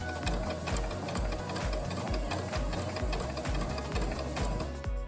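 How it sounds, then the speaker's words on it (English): A sewing machine runs steadily while stitching fabric for DIY shorts, with a loud, close, rhythmic mechanical chugging and ticking throughout. "we're gonna take these in there and sew them"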